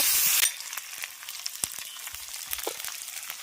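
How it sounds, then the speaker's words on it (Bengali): Sliced onion hits hot oil in a pan during home Bengali cooking, giving a loud burst of bright sizzling that settles into a steady, softer crackle with scattered pops, close by and with no talk. "তেল গরম হয়ে গেছে এবার ভেটে রাখা পেঁয়াজটা দিয়ে দিচ্ছি"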